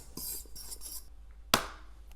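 Metal spoon stirring yeast into brioche dough ingredients with lemon zest in a bowl: soft scraping rubs at the start, then one sharp clink of spoon against the bowl.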